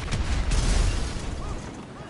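A grenade blast in GTA 5, a loud booming burst with a deep low rumble at the start that decays and fades over about two seconds.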